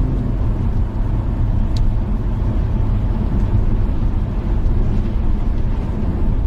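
Inside a car driving on the freeway, a constant loud low road and engine rumble fills the cabin without pause, with no talk.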